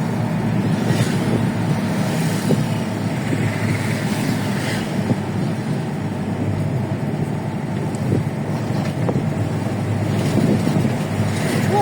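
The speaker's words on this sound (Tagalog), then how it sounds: "Kalakas ng hangin." Strong wind buffets the microphone beside the NLEX expressway at Marilao, a steady loud roar with low rumble throughout, with faint traffic noise blended underneath and no talking.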